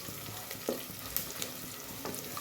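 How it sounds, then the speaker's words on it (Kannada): Onions frying in ghee in a pan for dill leaf pulao: a steady soft sizzle with a couple of faint stirring taps. "ಸ್ವಲ್ಪ ಫ್ರೈ ಆಗಬೇಕು ನೋಡಿರಿ ಉಳ್ಳಾಗಡ್ಡಿ ಕಲರ್ ಚೇಂಜ್ ಆಗಬೇಕು ರೀ"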